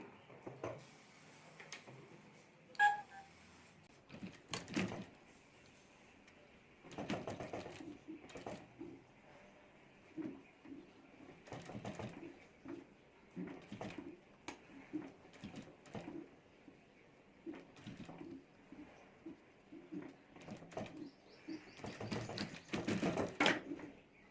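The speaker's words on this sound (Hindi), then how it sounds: "तो यहाँ ऊपर मैं एक सिलाई कर देता हूँ इस तरह से।" Bursts of sewing-machine stitching, a needle running fabric folded over a fiber sheet for a homemade handbag, come in several short runs separated by quiet pauses, fairly close and moderately loud.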